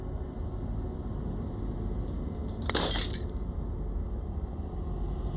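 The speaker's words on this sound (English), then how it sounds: "As the final fragment of the glass shatters" A single burst of glass shattering with a bright, tinkling spray of fragments, set against a steady low ambient drone in the Slay The Princess video game; no voices.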